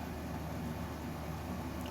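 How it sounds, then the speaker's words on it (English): An electric fan runs steadily in a room on a hot day, a constant broadband whoosh with a low hum underneath, even and unbroken throughout with no voices. "sorry about the fan in the background if that's loud on the video."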